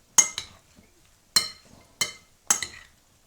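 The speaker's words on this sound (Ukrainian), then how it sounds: "це я перемішую наш салатик" A spoon clinks against a bowl while a burrata salad is stirred, making four short, sharp knocks with quick rattling follow-ups, spaced about a second apart, close and alone.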